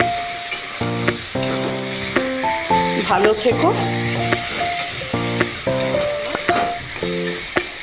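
Kalmi shak (water spinach) fries in a pan with a steady, nearby sizzle and occasional clinking stir noises, mixed with melodic background music and a brief spoken voice.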